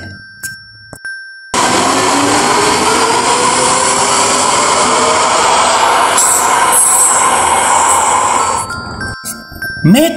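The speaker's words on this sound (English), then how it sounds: "Monorail." A monorail train passing at close range, a loud sustained rumble with rail squeal and metallic ringing that builds suddenly and runs steadily for about seven seconds before cutting off, with faint noises before and after.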